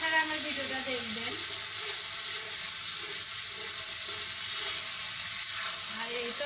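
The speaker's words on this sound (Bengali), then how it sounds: "এই মশলাটা নাকি অনেক ভালো করে কষাইতে হবে। তো এখন আমি এই যে কষাচ্ছি" Spice paste (masala) frying and being stirred in oil in a pan, a steady close sizzle holding throughout with faint scraping of the spoon.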